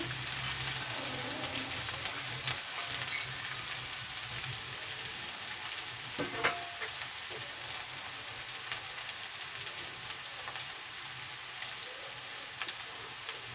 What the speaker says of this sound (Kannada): ನೋಡಿ ಎಣ್ಣೆ ಕಾದಿದೆ ಇವಾಗ ಮೆಂತ್ಯ ಕಾಳುಗಳನ್ನು ಮೊಳಕೆ ಬರೆಸ್ಕೊಂಡಿದ್ವಲ್ಲ ಅದನ್ನು ಇದರಲ್ಲಿ ಈ ರೀತಿ